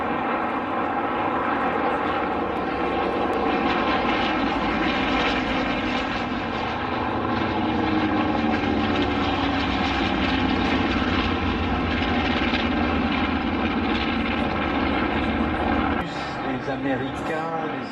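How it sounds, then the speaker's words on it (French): A warbird propeller aircraft roars steadily overhead at an airshow at La Ferté-Alais, loud and sustained throughout, with the engine drone shifting slightly in pitch as it passes. "De mettre tous les warbirds en l'air, le métal hurlant comme on dit."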